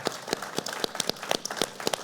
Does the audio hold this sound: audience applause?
yes